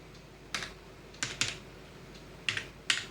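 Keys clack on a computer keyboard while entering a cash voucher in Tally ERP 9, a few sharp isolated presses and short bursts in a quiet room, with no talking.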